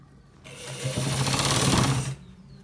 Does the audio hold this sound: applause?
no